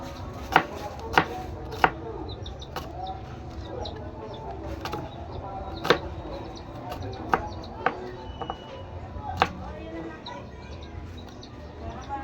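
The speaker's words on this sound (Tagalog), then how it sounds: "Hiwa-hiwa ng onion." A knife slices through an onion on a board, sharp chopping taps arriving irregularly, some in quick clusters, others spaced a second or more apart, with a voice talking lightly in the background.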